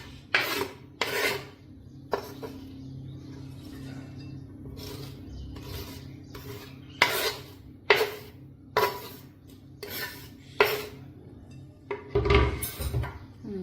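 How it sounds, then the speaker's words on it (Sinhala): Chopped carrots for a carrot sambol are scraped into a bowl, giving a series of sharp, close rasping bursts at uneven intervals with quieter pauses between them. "මේ විදියට භාජනයක් අරගෙන මම දැන් කපවගතිපු කැරට් ටික ඒකට එකතු කරනවා"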